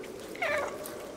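A single short cat meow from the game Stray, clear and close, rising then falling over a steady ambient game background.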